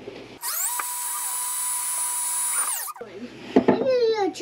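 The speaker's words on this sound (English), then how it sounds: "It onto the drill like I'm doing here." A handheld power drill, used while installing a battery meter for a kayak trolling motor, whines at a high steady pitch for about two and a half seconds, then stops abruptly before brief close talk and handling noises follow.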